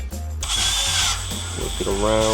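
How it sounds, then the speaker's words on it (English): A power drill is pushed a little further into a bamboo camera mount to widen the hole. It gives a loud, continuous, close-up whine with a shifting pitch as the bit works around. "just gonna drill it a little bit more"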